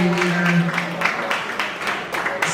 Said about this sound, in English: Round of applause for your amazing team here.